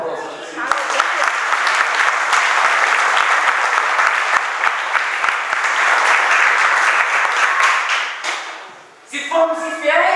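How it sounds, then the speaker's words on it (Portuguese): A church congregation breaks into loud, sustained applause during a Portuguese-language sermon, dense clapping filling the room for about eight seconds before fading, followed by a brief burst of talk. "Dá uma aplauso a Jesus."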